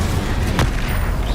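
A single whooshing burst from the Incendio fire spell in Hogwarts Legacy, one sharp flare partway through over a steady, dense game background.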